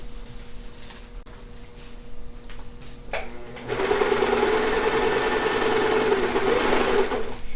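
A sewing machine stitching fabric at a shirt's shoulder seam, first a few quiet handling sounds and a short start, then a fast, steady whirring run of stitching that carries on loud and close until the end.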